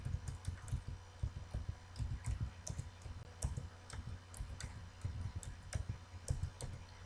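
Quick bursts of clicks and taps from a computer keyboard as a password is typed rapidly, irregular keystrokes up close with a low background hum and no talking.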